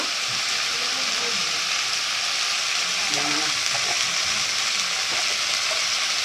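A pan of eggs being braised and stirred sizzles with a dense, constant hiss, with a few soft utensil scrapes and a faint voice briefly in the background.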